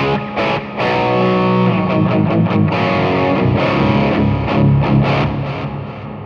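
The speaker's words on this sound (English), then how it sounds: "Really what I have here is this distortion pedal that they've included here with some drive on it" Distorted electric guitar played through a drive pedal with slight EQ into the Groove Lab Axonic amp simulator, giving a mid-gain crunch; steady strummed chords and picked notes, loud and continuous, with no voices.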